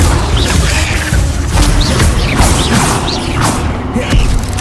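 Levioso levitation spell cast in Hogwarts Legacy, a whooshing magical effect amid a loud, busy mix of spell impacts, thuds and mechanical clatter during combat.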